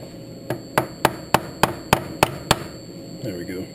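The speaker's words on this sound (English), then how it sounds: "Let me get a better hammer." Eight evenly spaced metal hammer strikes ring out close by on a CNC-machined transfer case adapter being tapped into its pocket, followed by a brief clatter of metal at the end.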